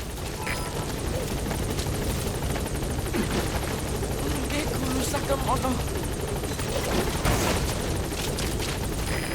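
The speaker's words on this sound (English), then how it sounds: "Put the target on the chopper." Helicopter in the video game Metal Gear Solid V, a steady loud rotor and engine drone filling the whole stretch with game speech and effects over it.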